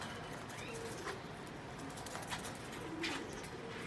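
Ferozpuri pigeons give soft, low coos at a distance, faint and scattered against a constant airy background hiss.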